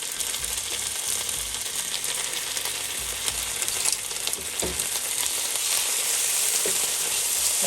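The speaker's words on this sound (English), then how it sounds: "so I'm adding it to the oil. Let's fry it until it's light brown" Onion and ginger garlic paste fry in hot oil for a chicken tikka masala gravy, a steady close sizzle with scraping and clinking of a stirring spoon against the pan.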